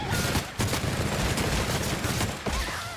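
Rapid, heavy gunfire from a hard-recoiling weapon in The Outer Worlds video game, a dense continuous volley of loud shots with brief pauses, close and dominant throughout.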